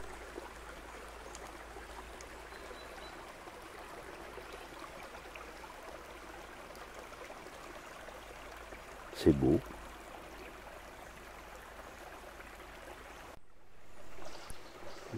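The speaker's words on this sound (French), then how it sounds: "j'ai toujours la chance de tomber sur un joli petit ruisseau qui murmure comme ça" Small babbling woodland stream: a soft, steady wash of trickling water carries on throughout, fairly faint, while a brief spoken remark breaks in partway.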